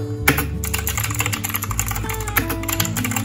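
Rapid, steady typing on a mechanical Bluetooth keyboard, a dense run of crisp key clicks close to the mic with no pauses and no one talking.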